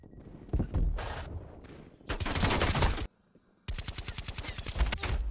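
Loud bursts of automatic gunfire in Black Ops Cold War, several sustained volleys of rapid shots broken by short pauses, including a brief near-silent gap before a final long burst.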